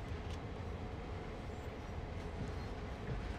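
A freight train rolls slowly through a rail yard in the Train Sim World 2020 Peninsula Route, a steady low rumble with a soft continuous rattle, even and unbroken throughout, heard alone without talk.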